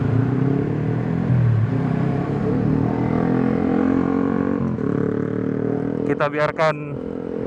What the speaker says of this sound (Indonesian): yang knalpot racing lewat dulu biar nggak berisik